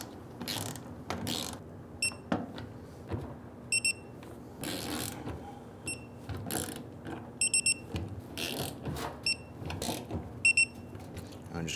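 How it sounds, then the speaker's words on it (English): Bolts on a 1994-2004 Ford Mustang fuel pump strainer are tightened with a ratchet or torque wrench, giving close, faint bursts of rapid mechanical clicks with short pauses between strokes and occasional sharper taps. "we're going to go ahead and torque these down to 89 inch-pounds"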